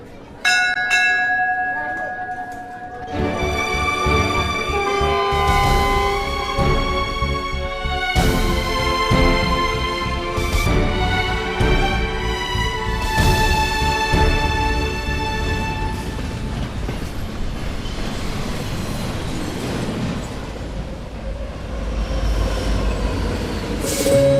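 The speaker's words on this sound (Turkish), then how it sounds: "Hadi hadi tren kalkıyor." A train rumbles with ringing bell-like tones and squealing wheels, loud and continuous, with a voice briefly heard at the start.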